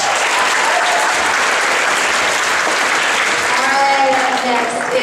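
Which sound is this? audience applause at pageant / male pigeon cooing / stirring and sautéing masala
audience applause at pageant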